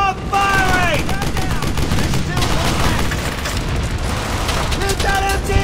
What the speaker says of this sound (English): Set up the MG over there. Don't stop firing!